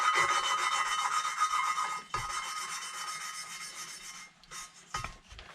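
A valve from a Kawasaki Zephyr 750 engine is ground in by hand against its seat, giving a close, steady rasping rub that stops briefly, resumes, then trails off into a few scattered scrapes and knocks.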